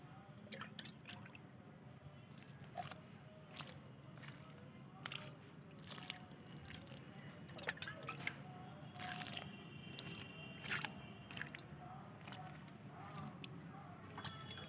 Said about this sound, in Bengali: এবার একটু করে জল দিয়ে দেবো।